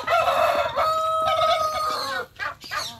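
A turkey in a backyard henhouse calling loudly and close with a sustained, tonal warble, followed by a few shorter bursts.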